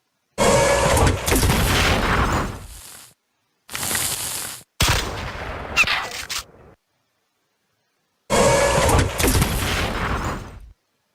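Battle Nations video game combat plays out, with a melee fragment unit and plasma artillery firing in loud bursts of booms and rapid crackling blasts separated by abrupt silences.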